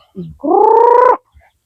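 A single drawn-out chicken call, a short cluck followed by a sustained nasal squawk lasting under a second, close and loud.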